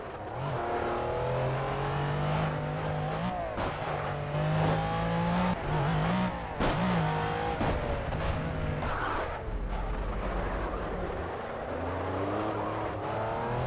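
Race car engine revving and accelerating through the gears in a racing video game, a steady loud droning whine with rising pitch sweeps and brief shift dips, continuous and alone.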